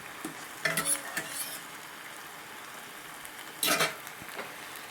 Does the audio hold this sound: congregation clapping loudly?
no